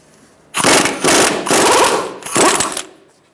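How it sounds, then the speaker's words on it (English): A pneumatic impact wrench fitted with a 32 mm axle socket loosens the front axle nut on a 2012-2017 Hyundai Accent 1.6L, hammering loudly in four close, sustained bursts separated by brief gaps. "Using a 32 millimeter axle socket, you're going to undo your axle nut."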